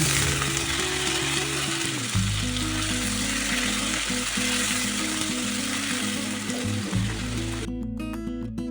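Potatoes fry in hot oil with onions in a pan for a katla fish kalia curry, giving a loud, steady crackling sizzle throughout, underlaid by a low, ratcheting, mechanical hum.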